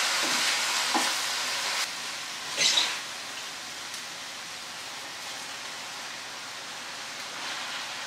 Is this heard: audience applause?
no